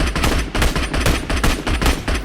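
Rapid automatic gunfire in PUBG Mobile, loud, close bursts of shots firing in quick rhythmic volleys with brief gaps between them.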